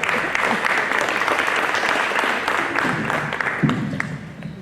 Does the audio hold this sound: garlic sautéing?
no